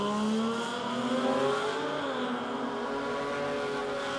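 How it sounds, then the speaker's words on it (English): An all-motor drag racing car roars down the strip at a Sydney jamboree race day, a loud sustained engine note rising in pitch with no talk over it. "Studley, I'm going to let the little barra go by itself here. This is an ultimate all-motor weapon"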